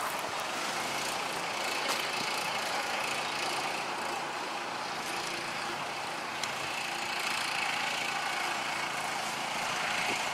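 A junk vehicle built from an old Farmall tractor runs with a steady, rough engine drone and broadband noise throughout, fairly close and continuous, with no talking.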